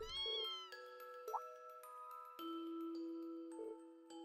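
A kitten meows in the video game Trails of Cold Steel, with a run of several short, bright mews over soft, tinkling game music and no talking.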